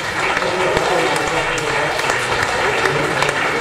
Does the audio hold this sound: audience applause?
yes